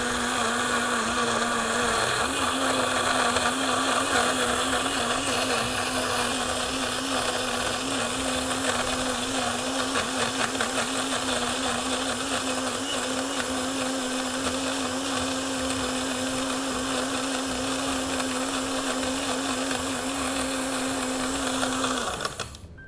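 A cheap $5 Kmart blender crushing ice and banana for a cocktail, a loud, steady, high motor whine running continuously for over twenty seconds before cutting off, close up with no talking.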